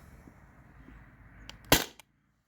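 A modified Sabre 68 paintball marker running on HPA fires one sharp, snappy pop, ringing briefly after a couple of faint ticks, over a low background hum.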